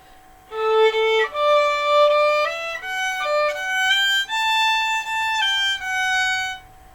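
A solo violin plays the gentle melody of Simple Gifts, each note held straight and steady without vibrato, played close and clear.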